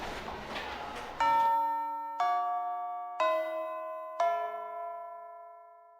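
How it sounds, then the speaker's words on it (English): A school homeroom bell chime in the video game Fate/Extra CCC, four clear descending bell tones about a second apart, each ringing out and decaying, after a short stretch of background chatter. "the bell for homeroom rang"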